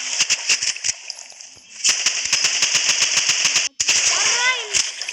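Rapid sharp gunshots from a sniper in the Roblox game Rivals crack in a fast, steady string, briefly cut by a split-second pause, with a voice speaking over the shots.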